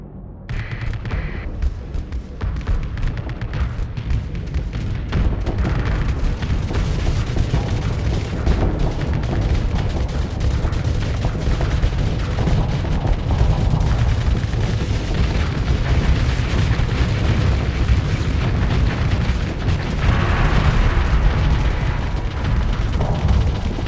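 Torpedoes striking a battle station in the space strategy game Starsector, a dense, loud rumble of overlapping booms and blasts that builds after the first few seconds and rolls on continuously.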